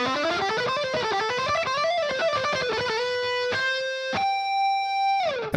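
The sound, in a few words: distorted electric guitar playing shred pattern with hammer-ons and pull-offs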